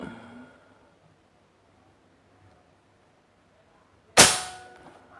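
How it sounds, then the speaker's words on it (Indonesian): A PCP bullpup air rifle fires a single test shot, one sharp loud crack with a brief ringing decay, after several seconds of near silence. "di awal video langsung coba saya tes tembak dulu"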